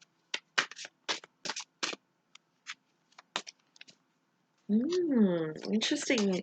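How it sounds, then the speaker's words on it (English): Tarot cards shuffled in quick, crisp riffling bursts, up close, followed by a voice starting to speak. "I'm going to just shuffle again."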